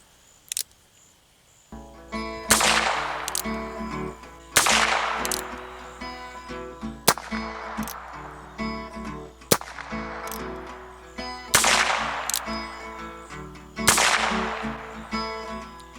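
Six fairly quick shots from a Colt Frontier Scout revolver fired at a target 5 yards away, each a sharp, loud crack with a short ringing tail, spaced a couple of seconds apart with no talking.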